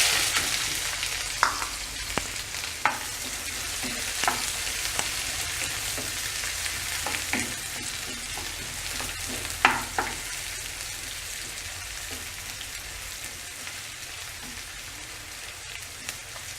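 Finely chopped onion fries in hot oil with a continuous close hiss and scattered sharp pops and spits that gradually settle, with no talking.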